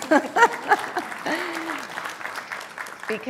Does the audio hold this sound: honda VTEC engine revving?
no